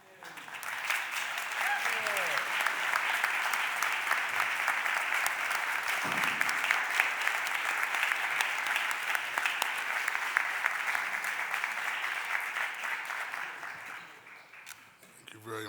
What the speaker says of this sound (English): can I ask the women that have been honored today to please stand so we can give you a round of applause?